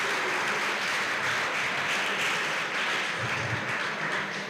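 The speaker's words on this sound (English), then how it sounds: "Please, a round of applause." Audience at a youth summit breaking into steady, sustained applause, a dense wash of many hands clapping at once that fills the room, loud and continuous with no talk over it.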